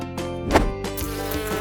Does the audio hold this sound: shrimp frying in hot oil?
no